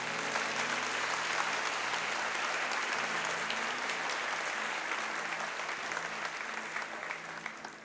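Sustained applause from a church congregation during a sermon, a dense steady wash of many hands clapping at full strength for about eight seconds before tapering slightly near the end.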